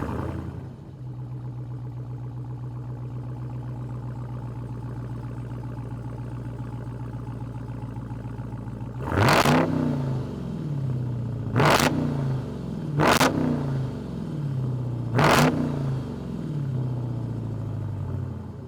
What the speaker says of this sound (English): Here's what the exhaust sounds like.